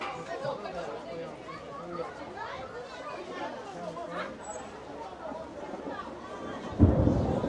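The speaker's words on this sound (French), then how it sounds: "Waouh, le tonnerre de zinzin." Several people chatter for several seconds before a sudden loud thunder rumble breaks in near the end and continues under the voices.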